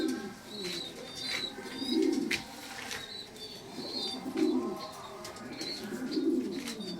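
Newly bought pigeons cooing in soft, low, repeated phrases close by, with occasional wing flaps and faint chirps over a busy background murmur.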